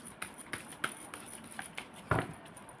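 Tarot deck shuffled by hand, a quick run of soft, irregular card flicks and taps, faint and close, with one slightly louder riffle near the end.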